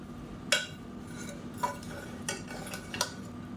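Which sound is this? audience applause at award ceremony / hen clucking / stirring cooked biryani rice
stirring cooked biryani rice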